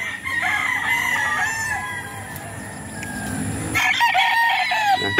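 A broodcock rooster on a gamefowl farm crows loudly and close by, with clucking around it, in a steady outdoor farmyard setting.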